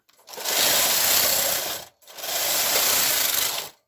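A KH940 knitting machine carriage sweeps across the bed twice while knitting tuck lace for a scarf, each pass a loud, close mechanical rattling whir of about one and a half seconds, with a short pause between passes.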